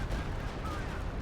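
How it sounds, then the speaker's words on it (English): A heavy, rumbling blast from a Stuka dive bomber strike in Company of Heroes 2, a dense muffled boom lasting about a second with no clear break. "Oh, the Stuka can hit hard."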